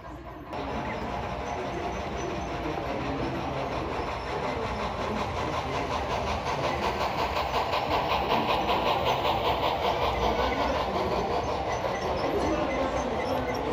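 A model railroad passenger train with heavyweight and lightweight articulated cars rolls steadily along a layout in a continuous close whirring rumble, with a faint repetitive clatter from wheels and motor humming throughout.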